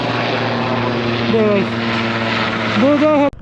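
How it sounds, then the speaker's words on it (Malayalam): Whirring helicopter rotor drone overhead, steady and loud, with people talking over it. "ഇവിടുന്ന് ഹെലികോപ്റ്റർ പോകുന്നു"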